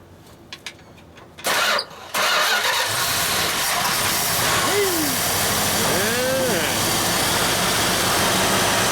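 A 1958 Ford F100 pickup with a 383 Mopar engine cranks briefly and then catches, settling into a loud, steady running roar at a truck junkyard, with a few rising mechanical whines partway through.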